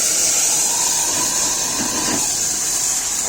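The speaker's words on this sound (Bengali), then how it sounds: "এই যে ভাজা সবজির ভিতরে জল দিয়ে দিয়েছি" Water poured into fried vegetables in a hot pan, a loud steady sizzle and hiss close up, with a brief bubbling surge partway through.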